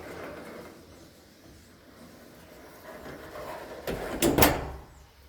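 A Yale 2001 door closer pulls a villa door shut, with quiet mechanical movement building over a few seconds before a loud, sharp slam and brief rattle near the end.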